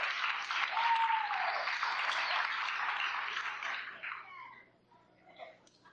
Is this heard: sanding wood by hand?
no